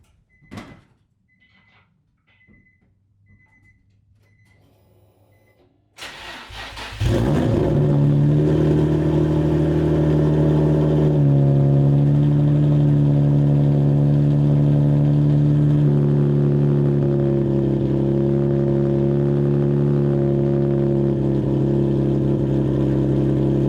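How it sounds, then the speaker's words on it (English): A straight-piped Nissan 350Z cranks over after a few quiet seconds, then catches into a loud, raspy idle on a cold start that holds steady, with a slight shift in tone partway through. "we are going to see what a cold start sounds like"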